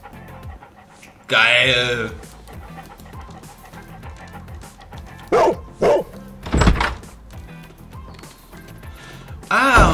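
Toby the dog in the Sherlock Holmes Crimes and Punishments video game pants heavily and gives several sharp barks in bursts, loud and close, with someone briefly speaking.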